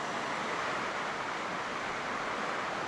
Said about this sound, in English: It's a creek